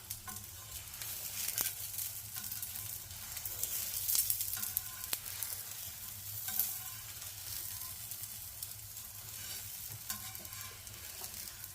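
A paratha sizzles steadily in a hot pan as it is slowly moved around, a continuous close frying hiss with occasional soft scrapes and taps, no voices.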